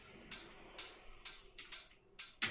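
Crisp electronic house hi-hat hits repeat in a steady loop, bright and sharp, with gaps between each tick and no shaker layer underneath.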